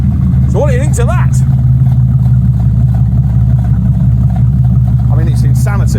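A TVR Tamora 350 BHP muscle car engine rumbles steadily up close with a heavy, low idle that barely changes, as someone talks briefly at the start and again near the end.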